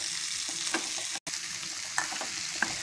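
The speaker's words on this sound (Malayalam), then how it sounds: "നന്നായിട്ട് ഫ്രൈ ആക്കി എടുക്കുക." Jackfruit seeds frying in a pan for a jackfruit-seed fry, with a dense, continuous sizzle and a few small crackles and stirring scrapes, close and steady, no voices.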